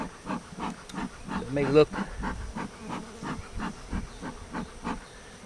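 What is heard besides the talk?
beekeeper's smoker puffing smoke into beehive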